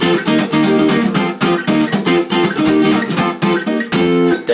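Guitar playing a riff with a movable chord shape, loud, quick rhythmic chord stabs with short muted gaps, played solo throughout.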